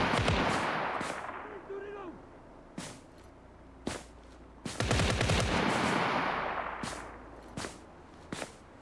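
Gunfire in the tactical shooter Ground Branch, set in a city map: a series of sharp, echoing shots in irregular bursts with a brief whining ricochet, some close and loud, others more distant.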